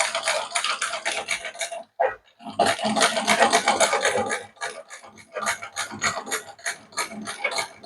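A sewing machine stitches piping onto a gown, running in steady rattling bursts with a short pause near two seconds, then faster stop-start runs of close, clattering mechanical stitching.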